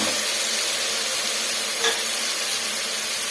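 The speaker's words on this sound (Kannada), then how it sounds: "ಈ ಥರ ಎಲ್ಲ ಸೇರಿಸಿ ಫ್ರೈ ಮಾಡ್ಕೊಳ್ಳೋಣ" Mixed ingredients for moong dal bath fry together in a pan, making a loud, unbroken hiss of sizzling close up, with one brief stirring knock partway through and no talking.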